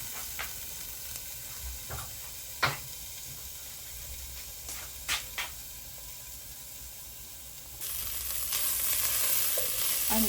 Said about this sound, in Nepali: चलाउँदै भुट्दै जानुपर्दछ